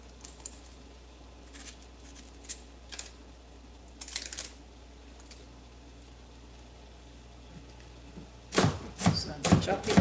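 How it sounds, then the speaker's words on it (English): Onions being chopped on a board for a Caribbean cornmeal cou-cou lunch: scattered faint knife taps, then a quick burst of louder, close chopping strokes at the end. "So I'm chopping some onions."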